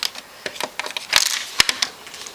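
A scoring tool presses and drags across a paper craft piece on a table, producing a series of sharp ticks and short scraping strokes, close and fairly loud, in an irregular rhythm.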